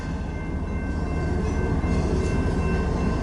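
A westbound coal train passes with a loud, continuous low rumble and roll of heavy railcars, close by and steady throughout.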